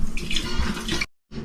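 Sangria mix of wine, apple cider and orange juice poured into a container: a steady splashing liquid pour for about a second, then a short stop and a fresh splash.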